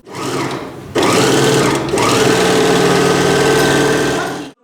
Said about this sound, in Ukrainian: У ній є понад десяток побутових швейних машин та два оверлоки.